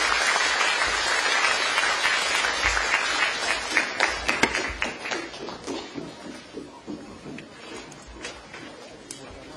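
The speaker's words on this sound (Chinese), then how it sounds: "下面就让我们以最热烈的掌声欢迎李毅老师为我们带来他的见解" Audience at a sociology lecture at Nanjing University of Aeronautics and Astronautics applauding to welcome the lecturer: loud, dense clapping from a large crowd that swells, then thins into scattered claps and fades.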